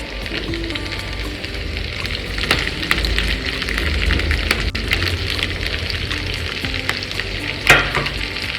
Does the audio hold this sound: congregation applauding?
no